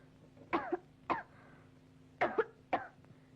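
Four sharp, harsh coughs from a person in an Indonesian classic comedy film, two close together near the start and two more after a pause, fairly loud and with no talk over them.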